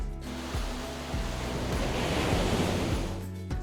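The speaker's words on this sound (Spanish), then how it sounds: "Hay olas tan grandes que se elevan a la altura de varios edificios y se estrellan contra la costa con una fuerza aterradora." Large ocean waves crash against the Portuguese coast in a loud, continuous roar of surf, with heavy broadband rumble and hiss surging and easing without any voices.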